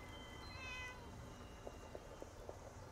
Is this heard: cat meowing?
yes